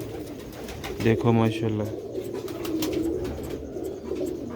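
Old breeder pigeons coo in a deep, throaty burst of rolling calls, followed by softer cooing in the background while someone speaks nearby.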